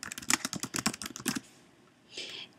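Quick, close keystrokes rattle on a computer keyboard in a fast irregular burst for about a second and a half, followed by a pause and one brief softer clatter near the end.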